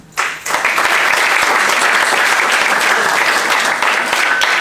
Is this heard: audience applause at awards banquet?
yes